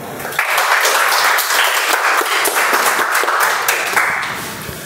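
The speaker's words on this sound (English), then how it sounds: "I would request you all to just stand up and clap after he finishes the speech" Sustained clapping from a standing audience at a speaking-club meeting after an icebreaker speech, a full, even roar of many hands that swells quickly, stays loud and steady, then begins to taper.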